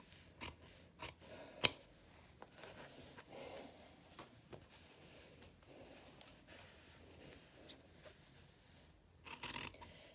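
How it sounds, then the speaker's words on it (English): Scissors trimming seam allowances on a heavy wool shirt collar, giving a few sharp snips and soft cutting clicks spread out over quiet room tone, close by. "So I'm going to trim these seams down to 1/4 inch."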